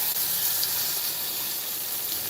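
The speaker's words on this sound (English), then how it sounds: "we're going to pour the egg here on top." A steady, broad hiss of egg poured into a hot pan, sizzling evenly and fairly loud throughout with no voices.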